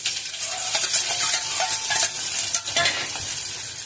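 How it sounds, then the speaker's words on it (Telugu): Chopped onion and carrot frying in a pan make a close, bright sizzle, broken by a few spatula stirs and scrapes against the metal, no voices. "ఇప్పుడు మనం ఉల్లిపాయ క్యారెట్ని యాడ్ చేసేసుకుందాం."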